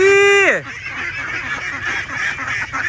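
Free-range ducks on an open area, a loud honking call up close at the start, followed by quieter, overlapping quacks and chatter from the flock.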